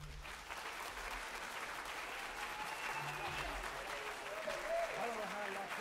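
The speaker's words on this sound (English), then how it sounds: "let's go ahead and give them one more round of applause" Steady applause from a school band concert audience fills the whole stretch, dense and continuous, with a few faint whistles or cheers rising near the end.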